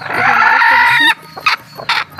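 A hen at a poultry farm gives a loud, drawn-out cackle up close, then breaks into a few short clucks, with no talk over it.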